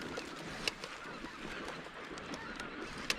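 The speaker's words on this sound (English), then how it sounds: "Look at all these ducks." Flock of ducks and geese passing overhead during an Arkansas waterfowl hunt, with scattered honks and calls over steady outdoor noise, two sharper calls standing out, distant and moderately faint.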